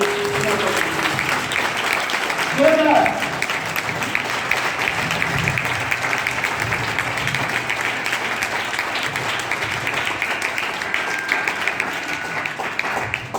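A large crowd applauds loudly and continuously, a dense wash of clapping that stays steady throughout, with a brief voice near the start.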